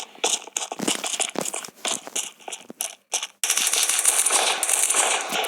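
Sniper rifle shots in the video game Kuboom, a run of sharp cracks with clicky mechanical handling sounds, then a steady dense stretch of game noise after a brief gap.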